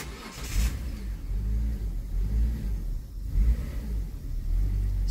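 A Hyundai Santa Fe V6 that had trouble starting cranks, catches and runs a little unevenly, then revs up and down several times, a close, deep mid-pitched engine rumble with no talk.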